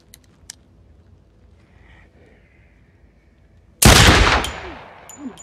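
A single loud, sharp gunshot cracks out in a film scene after several seconds of near silence, then decays with a ringing tail.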